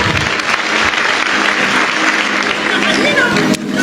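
Sustained applause from a large church congregation, steady and dense throughout, with a voice or two audible beneath the clapping.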